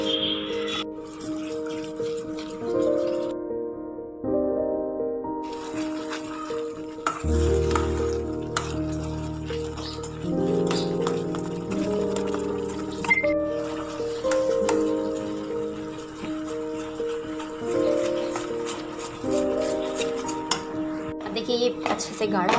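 Khatte khapade batter being stirred and cooked in a pot until it thickens, with a spoon scraping and clinking against the pan under steady music throughout.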